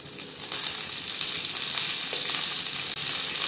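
Curry leaves, dried red chillies and green chillies crackle and sizzle steadily in hot oil, a close, continuous frying hiss for tempering coconut chutney.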